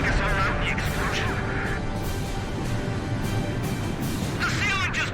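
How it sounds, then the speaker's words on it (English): A ceiling caves in during a mission of the PS2 video game Ace Combat 5: a loud, sustained rumbling crash with dense debris and impacts, set under urgent radio chatter and game music. "The ceiling just collapsed!"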